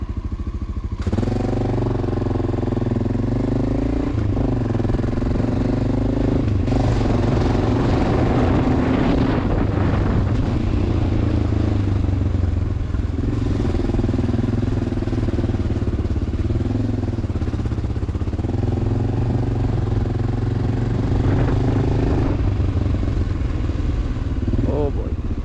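Motorcycle ridden through city streets with heavy clutch work, loud continuous engine drone rising and falling with gear changes, buffeted by wind, a rider's voice talking over it.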